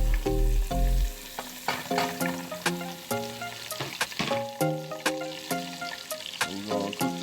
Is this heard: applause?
no